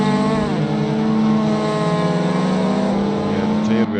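Mazda MX5 race cars climb uphill at the Bilster Berg circuit with a steady, loud, droning engine note that rises slightly in pitch as they pull. A commentator talks over the engines.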